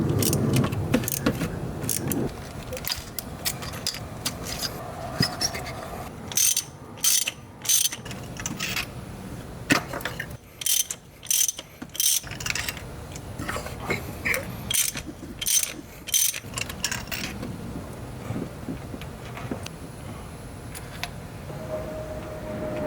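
A ratchet works spark plugs out of a Toyota FJ Cruiser engine bay on the passenger side, giving bursts of close, sharp clicking and metallic tool clatter separated by pauses, with faint background noise between bouts.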